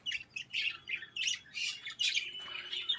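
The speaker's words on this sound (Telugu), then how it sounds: "ఆ మూలను 2 ఉన్నాయి, ఎగురుతున్నాయి." Birds in a zoo aviary squawk in quick, repeated harsh bursts, close and clear, with calls following one another almost continuously.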